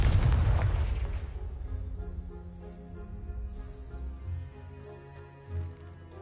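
A Confringo blasting spell explodes in Hogwarts Legacy, hitting a pile blocking a stairwell: one loud, close boom with a heavy low-end burst that decays into a rumbling tail over several seconds, with no talking.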